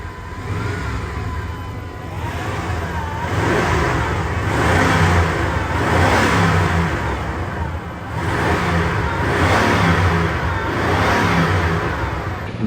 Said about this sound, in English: I did take a few exhaust clips before the little surprise I have for you guys, and I will be putting that in the video